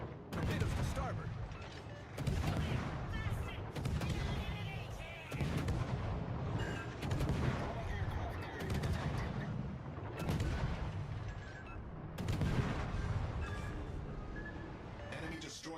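Naval guns and artillery pound away in a warship video game, with heavy booming salvos rolling continuously for about fifteen seconds and a voice speaking faintly underneath.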